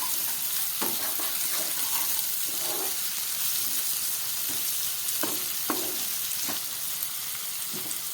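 Mixed vegetables with green chili and crushed black pepper stir-fry for restaurant-style fried rice, a continuous close sizzle broken by repeated spatula scrapes and clacks, with no talk.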